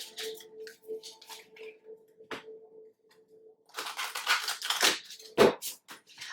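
Tarot cards are shuffled in two bursts of quick riffling and flicking, close and soft at first, then a louder, busier shuffle with a sharp tap.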